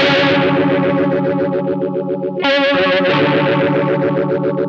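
Electric guitar played through an MXR Phase 90 phaser pedal for a clean tone, a steady rhythmic strummed pattern with a sweeping, swirling modulation throughout, loud and alone with no voices.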